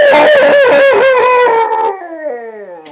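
A storybook-style wolf howl rings out loud and close, a long wavering tonal cry that slides downward, breaks off briefly and then trails away in a softer falling whine, with no talking over it.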